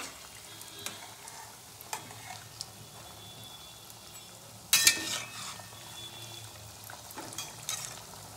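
Pea kachori fry in hot oil with a steady, soft sizzle, broken by occasional light clinks of a utensil and one sharper spattering burst midway.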